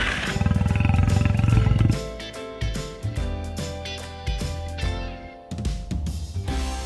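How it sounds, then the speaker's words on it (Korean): A lion roars loudly and up close, a rough pulsing roar that fades into a series of shorter grunts, over a rhythmic children's music backing. "Lion."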